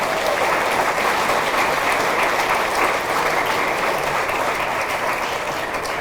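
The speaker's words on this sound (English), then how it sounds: "Let's give them a big round of applause." Audience applause for high school athletic Hall of Fame inductees, a loud, dense, even roar of many clapping hands that holds steady throughout.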